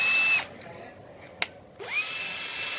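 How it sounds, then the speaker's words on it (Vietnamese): Power drill boring holes in a battery casing for assembling battery packs: a loud steady whine that spins down, falls silent with one sharp tap, then spins back up to full speed and holds. "khoan mấy cái lỗ vỏ pin để đóng pin cho mọi người"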